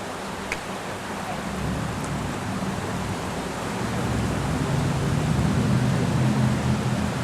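Steady rain falls outdoors beside a river, a dense, even hiss that swells slightly toward the end, with no voices.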